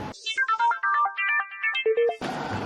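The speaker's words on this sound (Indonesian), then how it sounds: "Angkat dong teleponnya, Ajeng." A mobile phone plays a melodic ringtone for a call that goes unanswered; the bright, clear tune runs for about two seconds, then cuts off abruptly into noise.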